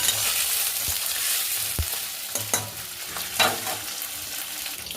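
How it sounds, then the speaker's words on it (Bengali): Paneer fries in hot oil in a home kitchen, a steady bright sizzle with occasional scrapes and clinks of stirring, close and alone without talk. "তার পনিরটা ভাজছি, তেলে ভেজে নিচ্ছি"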